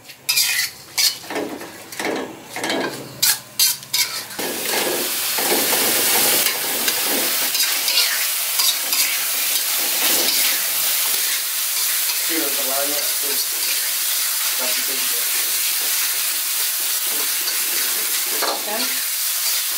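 Grasshoppers sizzle and spit loudly as they fry in a pan, with a scrape of stirring utensils against the metal early on, followed by a steady, continuous crackle of hot oil.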